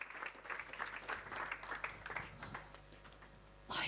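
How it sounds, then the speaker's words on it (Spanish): Audience applause welcomes a guest speaker to the stage at a hospitality service event, a crowd of hands clapping steadily before tapering off, with a brief burst of noise at the end. "Demos un fuerte aplauso, por favor, al Doctor doctor Elicio Elicio Hernández."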